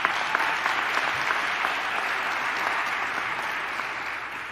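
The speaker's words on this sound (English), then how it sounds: "Give them a round of applause." An audience applauds at a press conference, steady moderately distant clapping that holds at an even level from start to finish.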